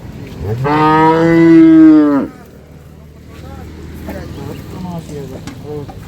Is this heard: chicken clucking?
no